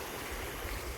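Water from a field pours into a drain on an early village morning, a dense continuous rushing gurgle, close and steady throughout with no voices.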